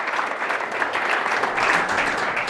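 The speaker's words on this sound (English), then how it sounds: "Let's at least clap for Travis." An audience at an industry forum breakfast claps after a software demo, a dense, steady burst of applause from a roomful of people, close and continuous without voices.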